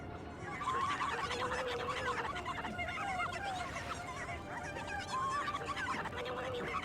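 Clucking and squawking chickens in The Legend of Zelda: Twilight Princess, a steady cluster of fowl calls running throughout at moderate loudness with no voices over them.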